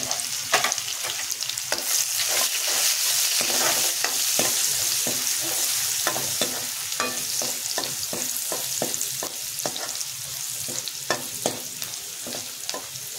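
Crushed garlic, curry leaves, green chilli and hing fry in hot oil for kadhi, a loud continuous sizzle broken by frequent sharp spoon scrapes and clicks against the pan, heard close with nobody speaking.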